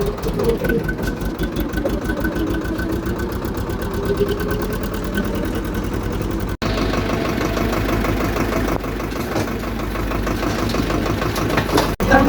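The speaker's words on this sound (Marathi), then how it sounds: "आपण ट्रॅक्टर घेऊन निघालो" A tractor's diesel engine runs steadily with a low, rhythmic chugging throb, loud and close, holding an even idle throughout.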